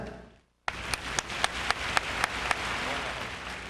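Concert audience at the National Quartet Convention clapping for a southern gospel quartet; after a brief silence, steady crowd clapping starts abruptly with a few louder sharp claps over the texture, spreading through a large hall.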